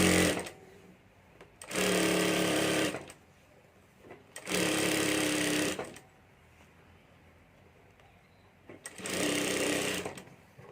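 A sewing machine stitches a once-folded fabric strip for a handbag, running in three steady, loud bursts of a few seconds each, with quiet pauses of fabric handling in between.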